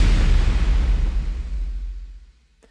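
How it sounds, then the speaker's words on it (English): Trailer effect pairing a wind whoosh with a heavy hit: a loud, full-range boom that swells and then slowly decays over a couple of seconds to near silence, heard alone. "So you combine the whoosh and the hit, the wind and the hit, it sounds something like this."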